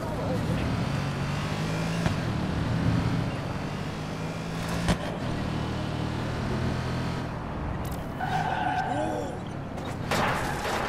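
A car's engine hums and roars continuously while driving in Watch Dogs 2, with tonal whines and occasional bumps; someone talks over it at points.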